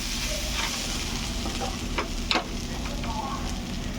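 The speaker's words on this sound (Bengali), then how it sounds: "মশলাগুলো মিশিয়ে নিচ্ছি" Spices being stirred in a hot frying pan for a Bengali-style chicken dish, a steady close sizzle with a few brief scraping strokes of the spoon against the pan.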